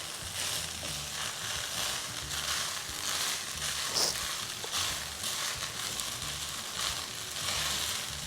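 Garlic butter rice stirred and mixed in a hot pan, with a steady close sizzle and soft scraping running throughout.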